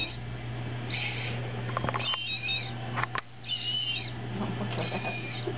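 Bird call imitated on a recorder: short, high whistling chirps come in about four bursts over a steady low hum, moderately quiet and close.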